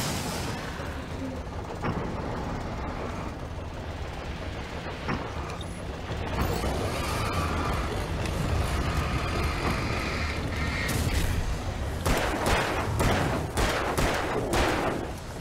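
Gunfire in the video game Alan Wake: repeated sharp shots and bursts over a dense, noisy game soundscape, growing busier toward the end.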